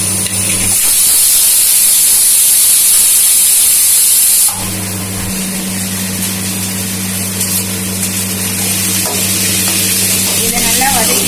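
Chopped onions with curry leaves, green chilies and garlic paste sauté in hot oil for a South Indian potato stir-fry, a steady loud sizzle and hiss filling the clip, with a brief pause near the start.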